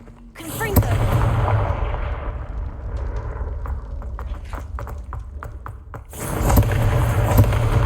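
A Confringo fire spell blast in the Hogwarts Legacy video game, a sharp explosive crack followed by a rumbling burst, then clicks and another heavy burst of fiery noise, with a voice briefly heard.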